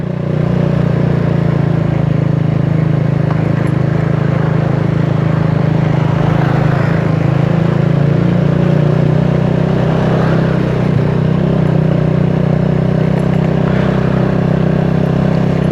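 A CG motorcycle engine runs loud and continuous with a deep exhaust rumble, holding steady with only slight rises in revs.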